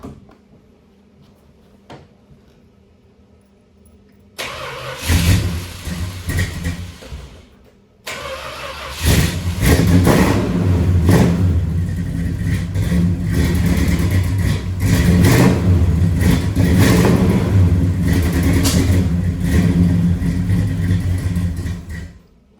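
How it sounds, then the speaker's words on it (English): The 383 V8 in a 1968 Dodge Charger barn find cranks briefly and catches, then runs loud and rough, with uneven revving and sputtering for over ten seconds after a short stumble. "the Charger started up, sort of, a little rough"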